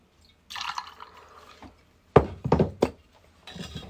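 Half an ounce of Cointreau poured into a cocktail: a short liquid trickle, then a few sharp clinks and thunks of bottle and glass. It is close and fairly clear, with no voices.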